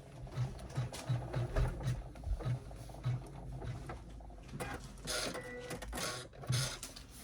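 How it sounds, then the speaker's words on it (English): An embroidery machine runs a stitch on a quilted Christmas stocking in the hoop, giving a steady, close mechanical needle rhythm with repeated low thumps. "we're just going to run a little stitch here"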